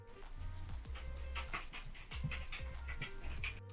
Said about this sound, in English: My dog is walking past.